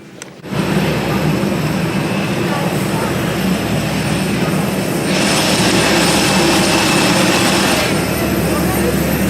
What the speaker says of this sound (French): Mon avion, il est là.